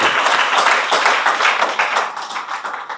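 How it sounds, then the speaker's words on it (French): Sustained clapping from a crowd, dense and steady throughout, fairly loud with no voices standing out. "applaudissez-la"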